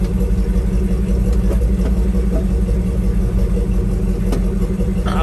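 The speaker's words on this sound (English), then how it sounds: "You can hear the fan blowing there" Steady blower fan running inside the cab of a 1965 Chevy big-window pickup truck, a constant rumbling whoosh with low engine-like hum throughout, close and even with no talking.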